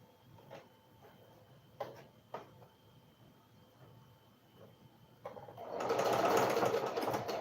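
A sewing machine stitching a tote bag at a half-inch seam begins after several faint clicks and bumps, then runs in a steady close whir through the last couple of seconds.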